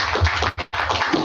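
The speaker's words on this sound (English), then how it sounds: "Give them a round of applause" Audience applause at a strategic dialogue gathering, dense clapping from many hands that stops briefly and resumes, close and fairly loud with no talking.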